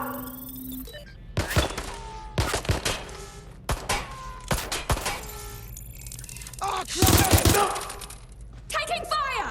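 Gunfire in Watch Dogs Legion, a series of sharp shots and bursts scattered through a tense firefight, with game voices calling out between the bangs and a louder cluster near the end.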